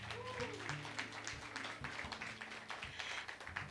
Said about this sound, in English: Round of applause for our gatherers.